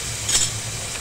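Black cumin and crushed green chillies hit hot oil in a pan, giving a steady close sizzle with a brief brighter spatter as they go in.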